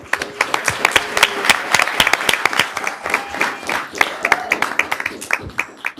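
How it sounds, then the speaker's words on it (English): An audience at a Sacramento City Unified School District board meeting applauds: dense, sustained clapping from a roomful of people, loud and close, with irregular sharp claps standing out over the steady patter. "Please give a round of applause for Ms. Villanueva."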